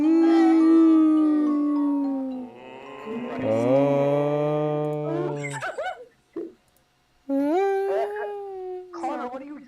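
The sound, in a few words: two-headed dog Halloween prop howling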